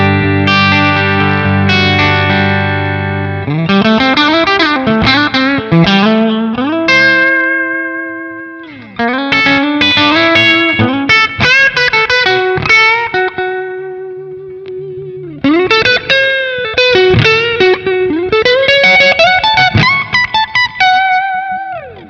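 An electric guitar plays heavily distorted chords and riffs through a Revv Generator 100R amp with the bright switch engaged, loud and continuous in several phrases separated by brief pauses, with ringing sustained notes.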